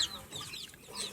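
Chickens cluck softly in a backyard, a few faint, brief calls, with chick peeps mixed in, under a quiet, still background.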